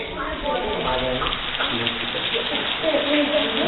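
Rain patters steadily on surfaces outdoors during a yoga session, a dense continuous hiss with scattered drops, while a voice speaks over it throughout.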